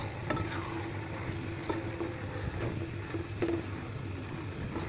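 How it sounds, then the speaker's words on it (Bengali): Polao rice being fried and stirred in spices for chicken biryani, a steady sizzle with repeated scraping spoon strokes close by and no talking. "মশলাতে পোলার চালগুলো ভালোভাবে কষিয়ে নেব, ভাজা ভাজা করে নেব পোলার চালগুলো,"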